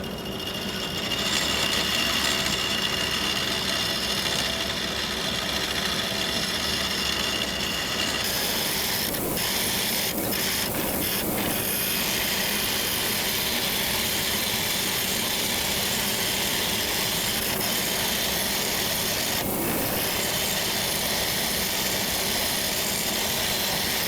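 Hollowing rig on a lathe cutting out a resin bowl with smoker wood chips cast in it, a steady scraping, grinding hum with periodic rubbing catches and clicks, continuous and moderately loud.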